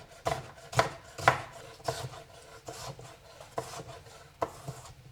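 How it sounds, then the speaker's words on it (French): A knife dices cucumber into small cubes on a board, making a series of about eight sharp chopping knocks at an uneven pace. The cuts are close and fairly crisp. "je vais pouvoir couper comme ça et ça va me faire directement des petits cubes"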